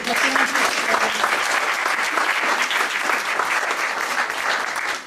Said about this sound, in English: Give them a big round of applause again.